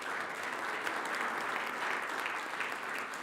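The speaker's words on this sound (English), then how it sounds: "let's have a round of applause for Christy and the rest of the lunch people" Audience at an annual meeting applauding the lunch staff, a steady wash of many hands clapping that holds evenly for a few seconds with no speech.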